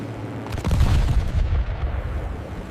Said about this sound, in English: Explosions erupted across the harbor as the first bomb struck.